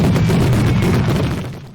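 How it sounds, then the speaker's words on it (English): A gas explosion outside a restaurant in Vietnam erupts as a loud, dense roar of rumbling blast noise that holds for over a second before starting to fade, with no voices. "a gas explosion shattered the calm outside this restaurant in Vietnam and left behind a terrifying scene of destruction"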